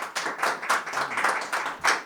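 Light, scattered clapping from a small annual-meeting audience for a staff member being introduced, a handful of hands patting in an uneven rhythm for about two seconds.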